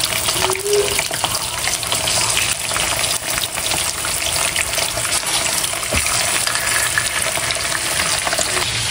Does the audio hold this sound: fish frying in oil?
yes